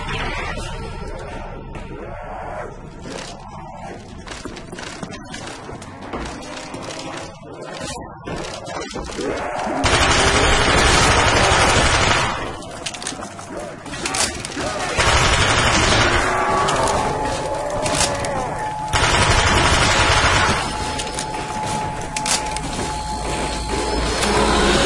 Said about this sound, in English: Nothing like an SMG.